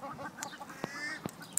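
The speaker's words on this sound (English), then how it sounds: "Look at all the ducks just around us." Several wild ducks in Australia quack in short bursts against faint outdoor background noise, some calls nearer and sharper than others.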